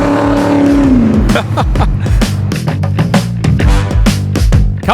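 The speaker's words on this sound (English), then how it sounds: "How many hours we've been driving now, Jesso?" A pub truck's engine drones loudly and continuously on an Australian outback road, with deep rumbling and shifting pitch as it drives north, the vehicle interior close and constant throughout.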